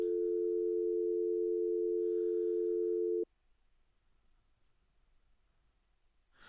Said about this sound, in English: Can anybody hear that ringtone, that dial tone?